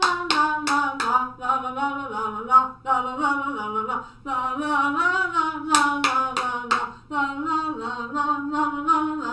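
A children's song sung in a steady la-la melody, with a few crisp handclaps falling in rhythm with it, clustered at the opening and again partway through.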